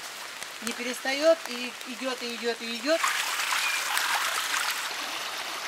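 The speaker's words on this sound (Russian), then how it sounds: "дождь не перестает" Rain falls steadily during a 2013 flood in Glauchau, a continuous hiss of water and trickling that is briefly covered by someone speaking, then carries on alone.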